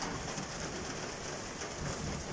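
Steady rain pours down in a constant, dense hiss with no pauses.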